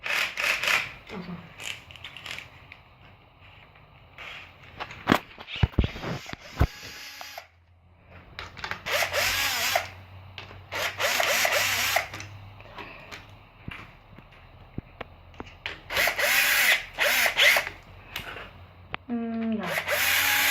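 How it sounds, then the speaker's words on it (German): A power screwdriver loosens screws during a bicycle repair, giving short whirring bursts and scraping tool noises, near and intermittent, broken by pauses and clatter, with people talking in between. "Wie ihr seht, schraube ich gerade die Schrauben ein bisschen lockerer"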